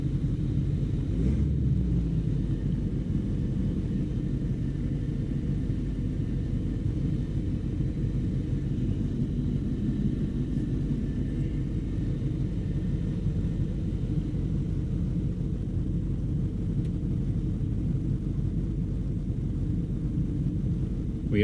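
A 1975 C10 pickup truck engine idles with a steady low rumble at an even level, with no other clear sounds on top.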